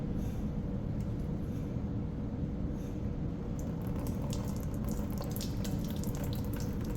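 Liquid is poured into the top of an air conditioner's condenser line, running as a steady, close watery rush with faint trickling and splashes building toward the end.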